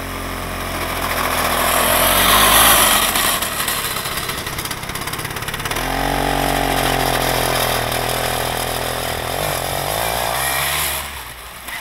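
A Krot motor cultivator in a winter setup roars and revs hard in the open, its engine rising to a loud peak, easing, then climbing again before dropping off at the end.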